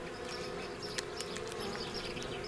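Wasps buzzing close around their nest, a dense continuous droning whir of many wings with a few sharper flits passing near, steady and fairly loud.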